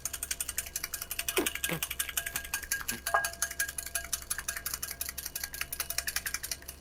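Mayonnaise of egg and olive oil is whisked briskly in a bowl, a fast, even run of metallic clicks and scrapes close by with a few brief clinks.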